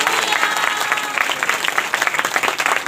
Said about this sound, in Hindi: ताली बजाकर धन्यवाद करो।